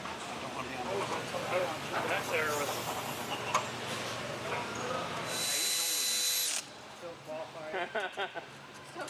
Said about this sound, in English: we can drill into these nose caps and have everything all aligned as it should be